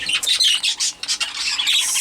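Pet birds squawk in a rapid run of shrill, harsh calls, loud and close, with several overlapping cries and no talking.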